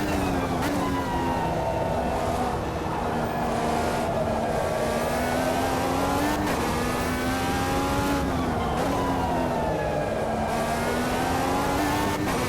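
An F-USA 23 Indycar formula car in Automobilista 2 screams at high revs through a lap on a circuit, its engine pitch rising and dipping with each gear change and corner, loud and continuous throughout, with a voice speaking underneath.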